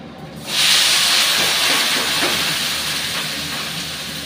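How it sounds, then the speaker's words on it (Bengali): Panch phoron spices hit hot mustard oil in a wok, setting off a sudden loud, steady sizzle that surges in at once and holds as a dense hiss, easing only slightly over several seconds, with no voices. "তেলটা গরম হয়ে গেছে, আমি ওর মধ্যে একটু পাঁচফোড়ন দিয়ে দিলাম"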